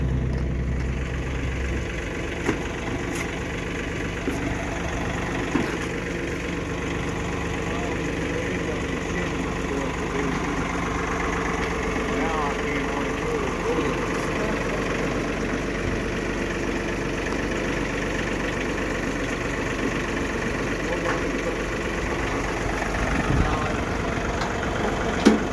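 A farm tractor engine idles near a workshop yard: a steady, close mechanical rumble that holds an even level for the whole stretch, with occasional small clanks and no clear speech.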